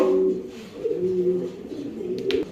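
Fancy club-bred pigeons coo at a pigeon farm, with several overlapping low, throaty coos rolling close by, plus faint background rustling.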